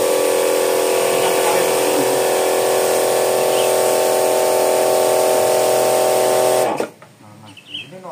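A jet cleaner pressure washer, being tested after a fault where it would not power on or deliver water, sprays a loud steady hiss that runs unbroken for nearly seven seconds, then cuts off abruptly, leaving quiet low noise.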